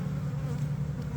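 Honey bees hum in a dense, steady drone at the sun-warmed upper hives, a close and continuous buzz with no break or talk.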